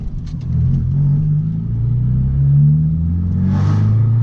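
An Abarth 500 Stage 2 hatchback downshifts, and its engine note drops and swells in a close, loud rumble. The revs shift as gears change, and a short hiss follows near the end.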